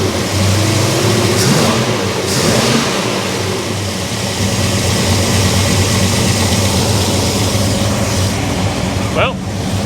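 A big block Chevy engine runs loud and close with a rattly noise, a steady rumble with slight revving, while people talk over it.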